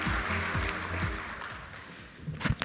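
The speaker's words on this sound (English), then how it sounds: "So let's bring the dynamic round of applause" Audience applause in a hall at a fintech festival, a dense wash of clapping mixed with low stage music that thins out toward the end, then a few louder scattered claps.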